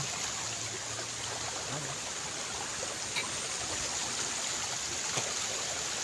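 Steady, soft rushing of a mountain stream heard from a short distance, continuous and even with no voices.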